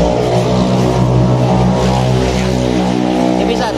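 A rough-running Yamaha Jupiter MX motorcycle engine idles and revs loudly and steadily up close, with a dense continuous drone and no pauses.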